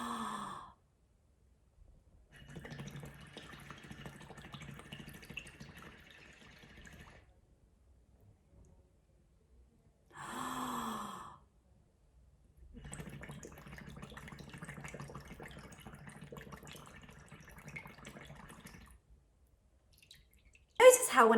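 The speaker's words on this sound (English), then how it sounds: "how when I blow bubbles out of my nose, I'm able to do it for a lot longer than I was before blowing out through my mouth." Bubbles blown out through the nose with the face submerged in a body of water during a beginner swimming and breath-holding practice at home: two long, close, steady bubbling stretches of several seconds, each set off by short breathy bursts.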